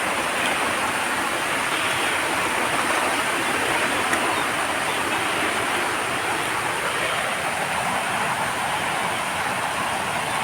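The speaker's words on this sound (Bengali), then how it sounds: "বৃষ্টির আওয়াজ শোনো" Rain falls steadily outdoors in a garden, a dense, even, close hiss that continues without pause.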